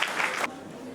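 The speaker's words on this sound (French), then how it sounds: "que je vous demande d'applaudir très très très fort" A conference crowd gathered to discuss immigration claps loudly for a brief moment, then the applause cuts off abruptly, leaving a quieter murmur of the room.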